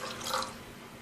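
A cup of water poured into a pan of soaked lentils, a short close splashing trickle that quickly fades, with no voices.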